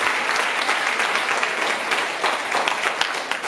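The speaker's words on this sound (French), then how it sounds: "est-ce qu'on peut applaudir pour cette dame?" An audience applauds continuously, a dense and loud roar of many hands clapping at once, steady from start to finish with no pauses.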